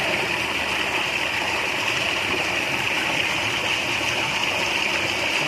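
Water pours and gushes steadily and close up while an animal is bathed in summer heat, a continuous loud splashing stream with no voices.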